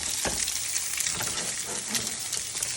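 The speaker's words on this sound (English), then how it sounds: "looks like the ramen buns are cooking up pretty nicely" Ramen buns sizzling as they fry in a pan, a loud dense crackle of hot oil with popping bursts and occasional stirring, close up and with no talking.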